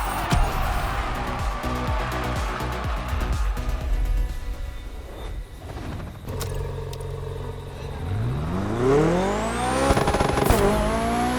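A BMW CSL racing car drives past, its engine revving and changing gear with tyre squeal, then rising into a loud, climbing roar near the end.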